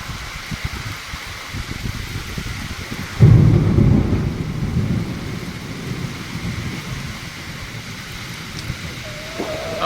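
Thunder rumbles loudly during a sudden rainstorm with strong wind, a heavy boom breaking out midway over steady rain hiss and gusts, with a rooster faintly audible.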